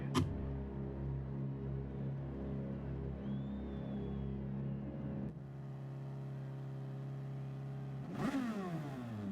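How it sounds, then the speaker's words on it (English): Race car engine in GT Sport revving steadily, then dropping in pitch before a sharp upward rev near the end, loud and close with no talk. "Don't rev the engine, I forgot."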